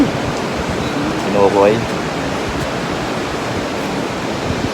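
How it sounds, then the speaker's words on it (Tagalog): Sea waves breaking at Baler beach, a constant broad rushing surf close by, with someone briefly talking over it. "Tingnan mo naman yung dagat dito guys, napaka alon."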